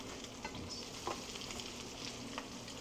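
French toast frying in a pan as pieces are flipped, a soft continuous sizzle with a few light scrapes and taps of a utensil, fairly quiet and without talk.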